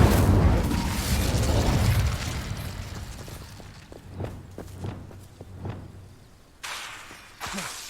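The Incendio fire spell cast in the video game Hogwarts Legacy opens with a loud whooshing fiery burst that fades. A string of soft footsteps and small impacts follows, then later bursts of noise.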